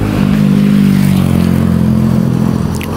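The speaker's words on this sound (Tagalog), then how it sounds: "Ayun guys, nakakasakay po tayo sa motor." A motorcycle engine hums steadily as riders travel with a passenger on the back, a close low drone with light road clatter and no talk.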